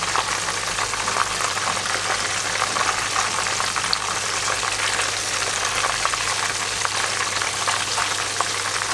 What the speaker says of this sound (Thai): จะค่อนข้างจะทอดนานนิดนึงนะครับ